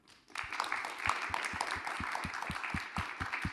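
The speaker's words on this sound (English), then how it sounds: "if we could just start with a big round of applause" Audience applause at a business school talk, a round of clapping from a modest crowd, fairly quiet and even, with a few sharper claps standing out in a regular rhythm.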